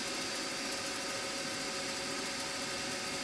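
A machine steadily cuts a steel bracket for a Webster engine cylinder head in a workshop, producing a constant, even, fairly faint whir with a broad hiss and no voices or breaks.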